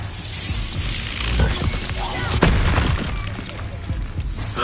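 A magical explosion from the Expulso spell in a Harry Potter video game, a booming burst with shattering debris that rises to a sharp peak and then rumbles on under other game noise.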